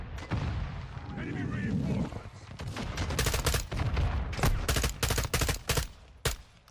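Heavy gunfire from the Call of Duty Modern Warfare 2 campaign, with dense overlapping bursts and booms that build into loud sharp volleys of shots near the end, over a constant battle din.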